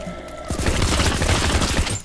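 Video game gunfire aimed at glass, a sudden close burst of rapid shots that starts after a brief quiet moment and keeps going loud to the end.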